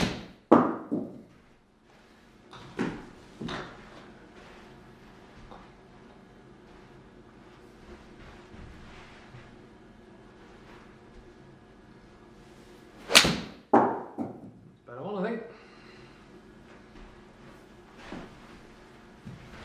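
Golf iron shots with a Cobra F7 iron at Howley Hall golf club strike thin, each a sharp, clicky impact standing alone against quiet outdoor background, with a few spaced hits and scattered softer knocks between them.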